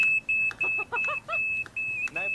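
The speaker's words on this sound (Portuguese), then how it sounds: "Ele modificou um detector de fumaça para servir de alarme." A modified smoke detector used as an alarm, powered by a wave-driven generator with no battery, sounds a loud steady high-pitched electronic tone broken into repeated beeps, with a person talking over it.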